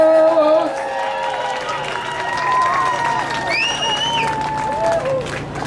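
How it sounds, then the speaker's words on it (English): A crowd at a polo match between Oak Brook and Beaver Creek at the 2021 Chicago Polo Open Championship cheers and applauds steadily in the distance, a broad murmur broken by whistle-like calls. "I take that cheering as a delayed response to Beaver Creek's last goal"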